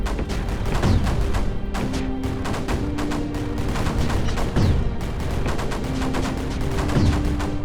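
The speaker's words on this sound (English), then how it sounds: "A load of cannons will do really good work against the oncoming creep." Dense, continuous volleys of cannon fire in the tower-defense game Creeper World 4, with sharp repeated shots and occasional heavier booms over a steady rumbling bed of battle noise.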